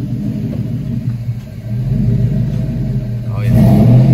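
Car engine running on top fuel nitro in a daily driver, idling low with a deep rumble before surging into a louder rev near the end, with people talking close by.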